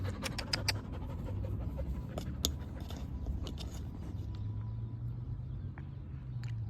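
A dog pants rapidly and steadily, close by, at a dog park, with a low rumble and a few scattered knocks and clicks behind the breathing.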